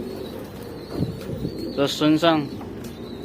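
A male pigeon coos while being held in the hand, with a few close, throaty rolling coos in a short burst amid nearby talk.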